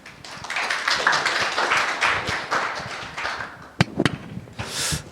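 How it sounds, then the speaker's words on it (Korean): A seated audience claps after a presentation at a breakfast forum on AI in energy. Dense, close applause builds and holds for several seconds, then thins into a few scattered individual claps. "우리 발제해 주신 우리 김용현 센터장님께 다시 한번 큰 박수 부탁드리겠습니다"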